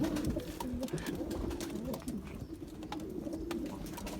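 White pigeons coo repeatedly and close by in a crowded coop, low soft calls overlapping one another from a busy flock, with steady background rustle, in rainy weather.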